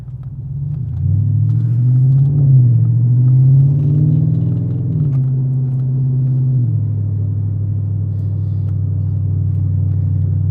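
A loud, deep Audi RS5 engine with a muffler delete rumbles steadily, rising into a throaty rev and then settling back to a heavy idle, with no one talking.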